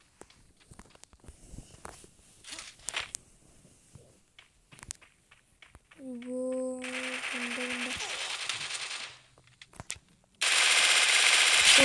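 Automatic gunfire from the Free Fire battle game, with a sustained burst of loud rapid shots followed by a short pause and then another dense volley, after scattered quieter clicks and footsteps.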